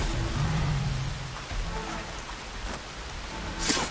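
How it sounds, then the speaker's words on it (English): Rain falling in the open world of Horizon Forbidden West on PlayStation 5, a steady broadband patter filling the scene with a faint low rumble early on and a brief brighter splash near the end. "Rain."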